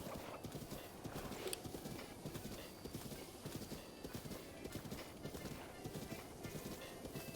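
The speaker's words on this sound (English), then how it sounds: "The horse's name is Misko." Horse Misko galloping in Breath of the Wild, a steady rapid clip-clop of hooves with rhythmic thuds and a brief whinny, fairly faint under game ambience.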